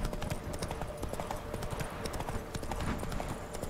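A horse's hooves clip-clop at a brisk, steady trot in The Witcher video game, the hoofbeats close and continuous throughout.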